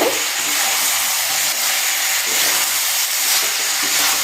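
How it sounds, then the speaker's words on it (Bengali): Chicken pieces being stirred with salt while frying for Bengali chicken kosha sizzle loudly and steadily in the pan, a close, continuous hiss with faint scraping. "লবণটা দিয়ে একটু নাড়াচাড়া করি।"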